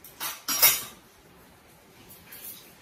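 Metal cutlery and a small serving spoon clink together in a few quick, light clatters while being packed for travel, with a faint rustle after.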